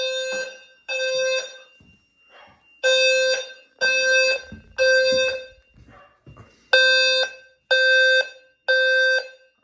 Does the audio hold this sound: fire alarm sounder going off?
yes